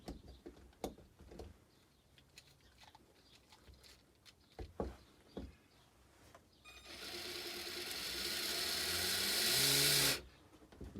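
Small electric motor of a 1/12-scale Silverlit Ducati toy motorcycle drives its back wheel, starting with scattered clicks and taps, then a loud, steady high whir that runs for about three seconds before cutting off abruptly.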